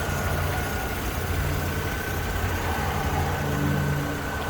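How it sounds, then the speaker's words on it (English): A 2010 Mercedes-Benz E350 4Matic engine idles steadily, a smooth, even low hum that holds constant throughout with no voices over it. "this engine is idling very smooth and happily"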